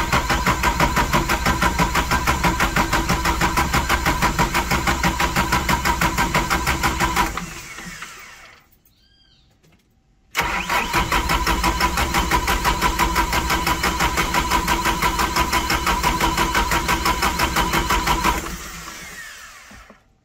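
A motorhome engine cranks repeatedly without catching, a fast rhythmic starter whir lasting several seconds, then a brief pause, then a second long cranking attempt, recorded close at the engine.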